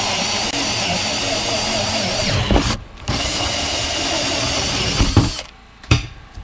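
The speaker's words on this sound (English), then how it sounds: "So this is a 4-inch hole saw." A drill turning a 4-inch hole saw cuts through a plastic rain barrel, a loud continuous whine and grinding that drops out briefly around three seconds and again near the end before a final short burst.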